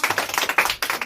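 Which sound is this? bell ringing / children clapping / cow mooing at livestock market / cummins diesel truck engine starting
children clapping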